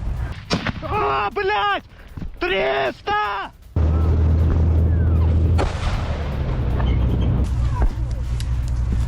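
Gunfire in war-zone footage, sharp bangs cracking out under shouted voices at the start, then a loud sustained roar of firing and blasts continuing to the end.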